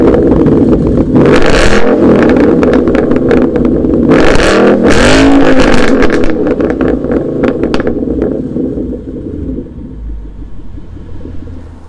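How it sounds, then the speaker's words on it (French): V8 engine of a 2013 Ford Mustang GT with a Roush exhaust, deep loud rumble with several sharp revving blips before settling into a lower idle, close up with no talk. "en écoutant les vocalises de ce V8 américain équipé d'un silencieux Rausch"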